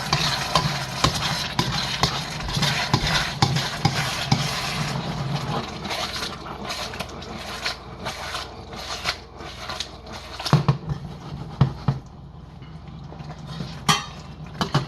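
A Szechuan beef and broccoli sauce thickened with cornstarch being stirred in a pan, with continuous scraping and clinking of a utensil against the metal and brief sharper knocks near the end.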